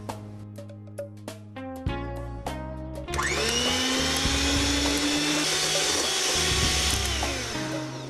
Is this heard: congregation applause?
no